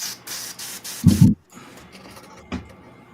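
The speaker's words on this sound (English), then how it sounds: "cleaning out my airbrush real quick" Airbrush being cleaned out, with several short bursts of hissing spray, a louder spitting burst in the middle, and faint clicks and hiss afterward, close by and without talk.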